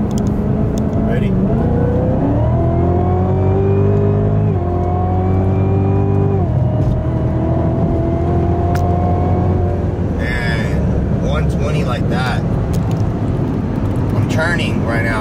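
A sports car hauls along a road at over 100 mph, its engine droning loud and steady with rising and falling gear pitch, while people talk inside the cabin over the roar.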